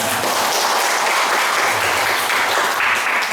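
Loud, dense applause from an audience at an anti-corruption campaign event in a public works office in Barito Kuala, Indonesia, continuous clapping from many hands with a faint voice or two underneath.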